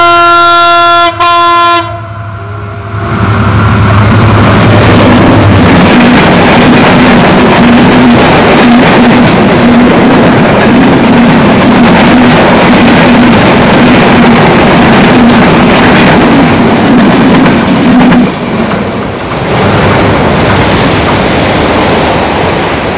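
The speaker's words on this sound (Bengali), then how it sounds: "ওই যে দেখুন দূরে ট্রেন আসতেছে," A train approaches from a distance and rolls past, opening with a brief horn blast before a loud, sustained rumble and clatter of wagons that fills the scene and then eases slightly near the end, with no voices.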